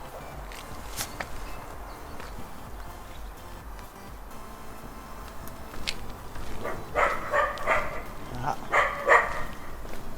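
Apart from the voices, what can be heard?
dog barking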